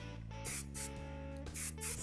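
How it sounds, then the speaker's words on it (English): A hair spray can gives several short hissing bursts onto the side of a styled 1950s wave hairdo, close and quiet over a faint background hum. "Let's spray the side here."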